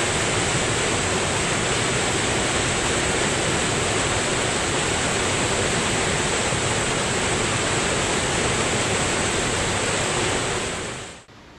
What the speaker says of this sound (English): the Slabtown Dam looks and sounds harmless, but what lies beneath is a torrent of current, fast-moving water